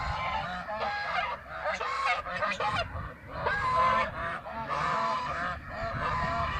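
Flock of ducks at a duck farm with about 1,100 birds, giving loud, continuous overlapping honking calls close by, with no speech.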